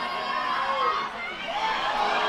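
A crowd at a varsity hockey match booing and shouting, a sustained broad wash of many voices that swells and dips slightly, fairly loud with no single voice standing out.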